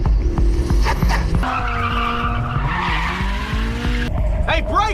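An anime racing car skids hard during a mountain-pass race at Akina, its engine whining through rising and falling pitch as the tires squeal, loud and continuous, with a brief voice near the start.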